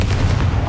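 A Confringo blasting spell goes off in Hogwarts Legacy, a short, loud, low rumbling boom that fills the moment with heavy bass and no voices.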